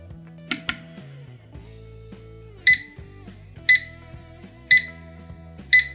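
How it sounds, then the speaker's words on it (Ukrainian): A TS-9210 projection alarm clock rings with four evenly spaced electronic chirps, each a bright tone, following some clicks and faint mechanical handling sounds. "Ось так звучить будильник."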